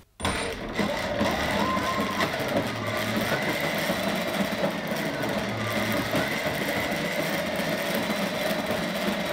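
Electric car motor driving a homemade snow racer on its first test, a steady loud whirring drone with mechanical rattle that runs continuously after a brief start.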